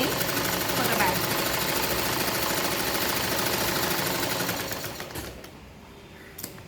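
A sewing machine stitches the side seam of a denim tote bag, sewing a French seam parallel to the selvage. It makes a steady, close mechanical whir with a fast rhythmic beat for about five seconds, then quiets down.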